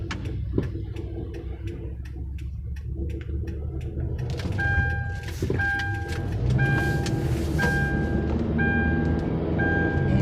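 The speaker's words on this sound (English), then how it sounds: "One car got past that light." A car rolls past a traffic light, its steady road rumble continuous and fairly close, with a repeating electronic tone at a regular pace through the second half.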